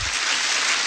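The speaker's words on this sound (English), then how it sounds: "Everybody give a round of applause to Paul Scheer" Studio audience clapping for a game show guest, a brief burst of dense, continuous applause.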